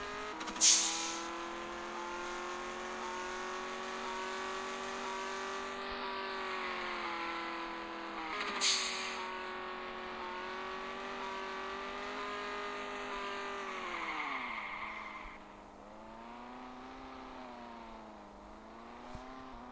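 A steady, droning Lamborghini Aventador engine in an Android driving simulator game, with a revving tone that rises and falls, alongside a couple of sharp clicks, continuous for about twenty seconds.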